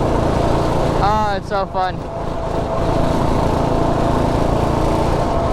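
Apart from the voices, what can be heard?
go-kart with Predator 212 Ghost engine running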